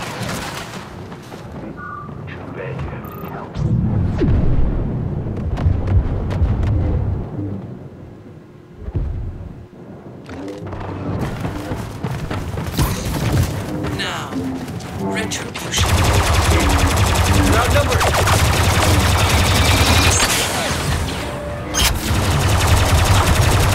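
Dense blaster gunfire fills a Star Wars Battlefront 2 online match, with continuous loud volleys and explosions that rise into a heavy barrage in the second half, while a player talks over the action.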